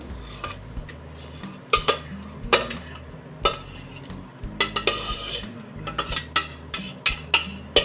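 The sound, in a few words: turning lauki barfi out of a pot onto a plate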